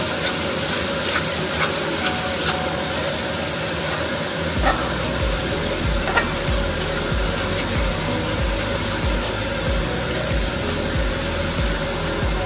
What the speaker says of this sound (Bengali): মশলাটা 4-5 মিনিট মতন কষানো হয়ে গেছে।